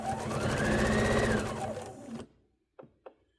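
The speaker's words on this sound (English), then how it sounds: "So I'm going to sew these two together" A sewing machine stitches quilt pieces for a scrap placemat, whirring in a fast rising-and-falling run for about two seconds before stopping, followed by two small clicks in the quiet.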